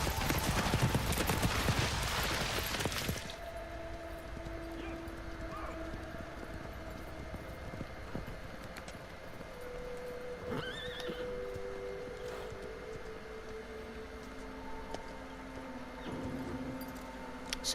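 Horse hooves clip-clop and a whinny rings out in the Shadow of the Colossus game, a loud burst at the start followed by quieter clopping and faint calls against steady ambient tones.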